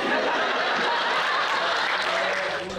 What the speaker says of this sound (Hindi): हॉल तालियों और कहकहों से गूंज उठा